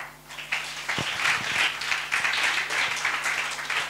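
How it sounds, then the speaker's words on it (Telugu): A church congregation claps together during a worship service, a steady, dense patter of many hands that carries on for several seconds over a low hum in the hall. "బిగ్గరగా చప్పట్లు కొడదాం"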